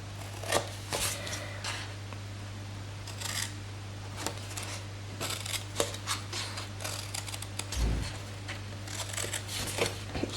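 Scissors snip through card stock while cutting and notching a slide-on lid box, a series of short, crisp close-up snips in irregular bursts over a steady low electrical hum.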